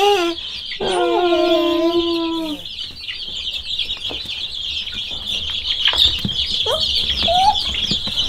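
Baby chicks and chickens cluck and cheep together, with a dense continuous high chirping chorus, a prominent clucking call early on and scattered flutters, close and lively with no speech.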